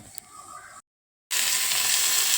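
Onion and garlic fry in a pan with mustard seeds and chilies, giving a steady sizzle that drops out briefly and then returns louder and fuller, close up and without speech.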